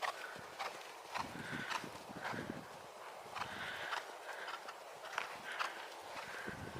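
A horse's hoofbeats clip-clop in a steady canter-like rhythm during a flatwork riding session with a coach, moderately close and continuous, with faint speech in the background.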